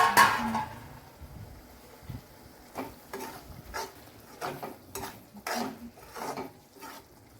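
Bitter gourd curry stirred in a pan with a spoon, giving a run of repeated scraping and clinking strokes against the metal, moderately close and steady, with a faint sizzle underneath and no talking.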